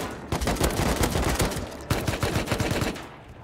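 Rapid automatic gunfire erupts in the survival game Rust, loud dense bursts of shots in quick succession, a brief pause, then another sustained volley that tapers off.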